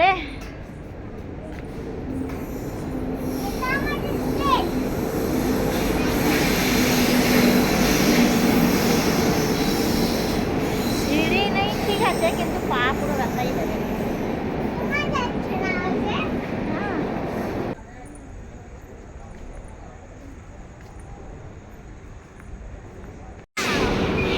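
A continuous rumbling roar of a train running on rails, heard from inside, with children's voices and chatter over it; the noise drops abruptly near the end.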